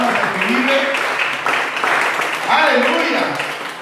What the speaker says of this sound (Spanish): Denle una ofrenda de palmas a que vive